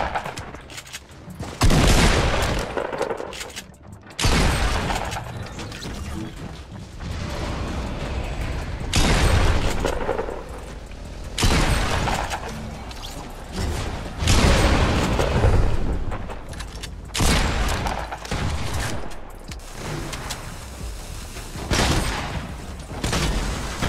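Repeated heavy gunfire and booms from a Fortnite match, loud broadband blasts recurring every few seconds across the clip, with intense battle noise filling the gaps between shots.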